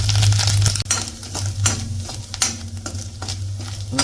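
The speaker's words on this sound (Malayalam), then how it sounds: "എണ്ണ നന്നായിട്ട് ചൂടായിട്ടുണ്ട്. അതിലോട്ട് നമ്മുടെ തേങ്ങ ഇട്ട് കൊടുക്കാം." Grated coconut hitting hot coconut oil in a pan, a close, steady sizzle with repeated scraping and stirring strokes against the pan and a low hum beneath, no voices.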